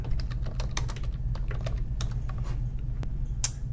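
Computer keyboard typing a search, a quick, steady stream of close key clicks over a constant low hum, with no talking.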